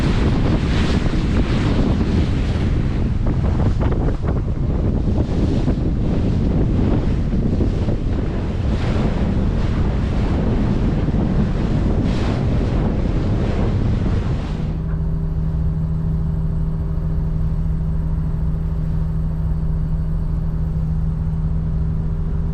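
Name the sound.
wind on open water aboard a Nordhavn 50 boat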